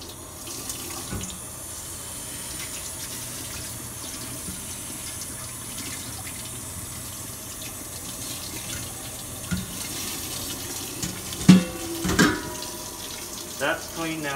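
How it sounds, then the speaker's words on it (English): Running water washing aggregate material through stacked sieves in a lab test, with a steady faucet-like rush throughout and a few clunks and knocks of the sieves near the end. "So now I'm going to have to wash this material onto our sieves."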